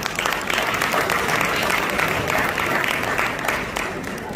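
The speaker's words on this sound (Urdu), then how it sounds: "تو میں چاہوں گا ان دونوں کے لیے بھی آپ بھرپور تالیاں بجائیں" Audience applause at a charity fundraising dinner in a London banquet hall, a dense, steady clatter of many hands clapping at once, sustained and fairly loud throughout with no pauses.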